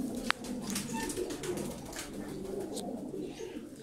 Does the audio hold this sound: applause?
no